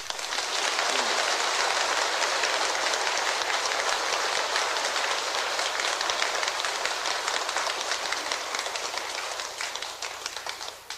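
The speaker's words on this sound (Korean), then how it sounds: "이 박수 소리에 막 지신이 감동을 해서 막 들어오도록 한번 쳐보세요" A temple congregation claps its hands together in a dense, sustained burst of applause that stays loud and even for several seconds, then thins slightly toward the end.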